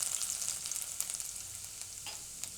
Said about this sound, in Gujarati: પહેલાં આપણે લસણ નાખશું એને